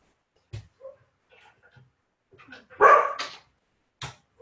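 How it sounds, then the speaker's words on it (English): Dogs bark in short separate bursts, fairly close by. A louder bark or yelp stands out in the middle, and softer yips and whimpers come between the barks in an otherwise quiet space. "Excuse me while I quieten the dogs again."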